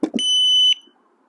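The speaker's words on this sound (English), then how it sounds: "You hear that single beep? That arms it, right?" A motion alarm gives a single high-pitched electronic beep as it arms, sustained for about half a second after a couple of soft clicks, close and loud.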